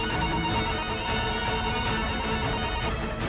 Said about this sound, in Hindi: के लैंडलाइन फोन की घंटी बजती है।